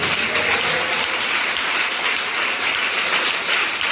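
Loud, dense clapping from a church congregation fills the space continuously and evenly, a thick sustained roar of many hands with no talk over it.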